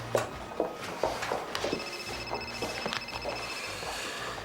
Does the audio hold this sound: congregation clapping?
no